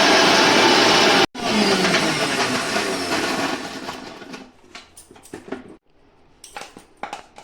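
A blender roars loudly as it grinds fried garlic, ginger, tomato, cashews and raisins into a paste. It runs hard, cuts out briefly, starts again, then winds down into scattered rattles and knocks.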